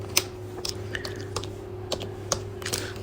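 Close keyboard typing during an HTML coding lesson, scattered soft key clicks at an irregular pace over a steady low electrical hum, no talking.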